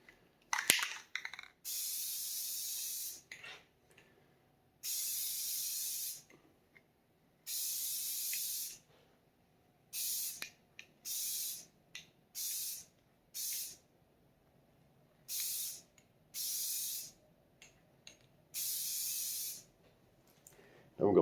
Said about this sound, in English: keep your can up and let the paint fall down this way instead of spraying it this way